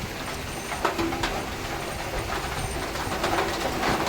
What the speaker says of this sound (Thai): ฝนมาแรงด้วย โอ้โห ดูนะคะ ฟังเสียงฝน